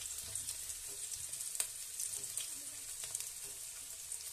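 Onion, chili and garlic dropped into hot oil with cumin, giving a faint, continuous frying hiss with light crackles and an occasional soft clink, no voices.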